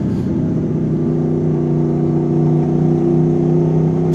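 Heavy haulage lorries drive past on a road leading to the motorway, a loud, steady low engine rumble and drone held close throughout with no voices.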